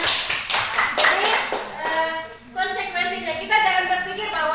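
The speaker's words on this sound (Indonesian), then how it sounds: "Ya, kita kasih tepuk tangan dulu lah, biar pesertanya" A group applauds with bursts of hand clapping at a school gathering, fairly close, mixed with talk and overlapping voices that continue as the clapping fades.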